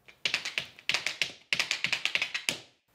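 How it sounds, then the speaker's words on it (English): Metal tap shoes striking a floor in quick, crisp clicks, grouped into short bursts separated by brief pauses, close and clear with no talking. "The metal on the bottom of my shoes creates a sound when I tap the floor."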